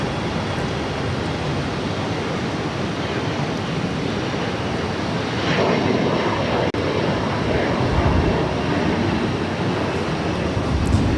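An Embraer E175 regional jet, a Delta Connection flight, takes off from Boston Logan with a steady, loud broadband engine roar that holds throughout and swells slightly partway through.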